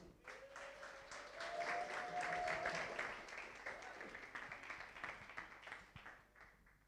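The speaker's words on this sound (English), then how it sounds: "please, round of applause for Nyash" An audience claps for a speaker at a civic talk on misinformation, a moderate wash of applause that swells, holds, then thins out, with a faint tonal sound and some background murmur.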